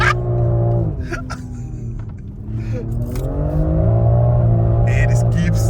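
A BMW X3 M engine revs hard, rising and falling in pitch while the SUV drifts sideways around corners, loud and close from inside the cabin, with people talking over it.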